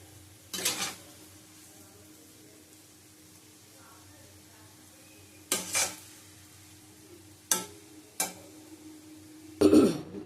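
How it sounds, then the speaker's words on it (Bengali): A spatula stirring egg chicken chowmein in a pan gives a few sharp, separate scrapes and clatters over a quiet background with a faint low hum. "আবার একটু নাড়িয়ে নেবো, নাড়িয়ে নামিয়ে নেবো"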